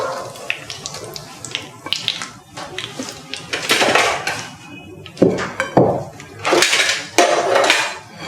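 A serving plate being brought and handled in a kitchen while cheese potato chops are made: repeated clinks and scrapes of ceramic and cutlery, close by, in irregular bursts with brief pauses.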